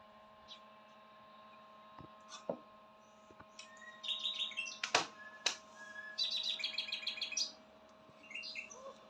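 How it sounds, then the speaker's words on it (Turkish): Nightingales sing by the Espap stream near Zile in open countryside: scattered chirps and short trilling phrases, fairly faint and somewhat distant, over a steady low hum. "muhteşem bülbül sesleri var."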